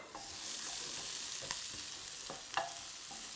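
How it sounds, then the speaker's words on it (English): Beef and green peppers stir-fried in a hot wok, a steady bright sizzle with several sharp clanks and scrapes of the spatula tossing the food, close and without any talking. "I'm going to give this a really quick mix. And straight away we're getting that caramelization because the wok is hot"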